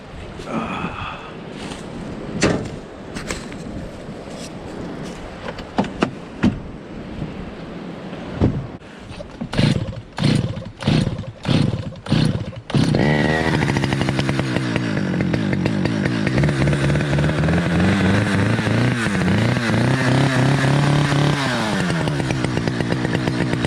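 A chainsaw sputters through several pull-starts and short revs, then catches and runs loudly, its engine pitch rising and falling as it is throttled.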